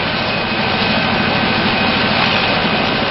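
A military helicopter flies overhead, its engine and rotor giving off a loud, steady broadband roar that holds constant for the whole stretch with no voices.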